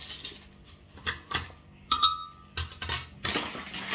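Oat flakes scooped by the spoonful into a container for a homemade protein drink: a series of short scrapes and rustles, each ending in a close metallic spoon clink, one ringing brightly, about six bursts over a few seconds.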